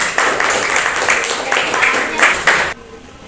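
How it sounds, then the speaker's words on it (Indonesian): A classroom full of people claps their hands together in a dense, steady round of applause that holds for under three seconds and then stops abruptly. "Tepuk tangan dulu dong buat kita semuanya."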